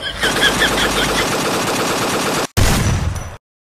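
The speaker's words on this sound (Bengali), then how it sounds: "সালুকে, ওরা যদি হাত দিয়ে গুলি করতে পারে, আমরা স্যান্ডেল দিয়ে গুলি করবো।" Rapid automatic gunfire sound effect rattles in a dense, continuous burst, cuts briefly, then resumes for another loud burst before stopping abruptly.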